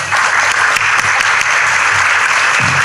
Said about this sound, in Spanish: pedirles a ustedes le demos un aplauso